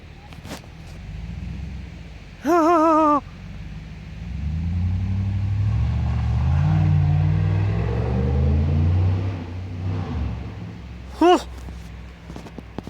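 Chevrolet Suburban engine rumbling low and building through a sustained rev for a launch, with short sharp bursts before and after; people talk nearby.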